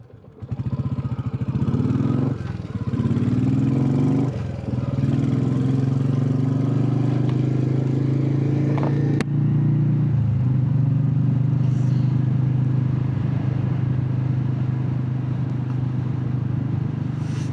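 A Royal Enfield Classic 350 motorcycle idles close by outdoors, a loud, steady low single-cylinder thump after a few brief throttle blips near the start.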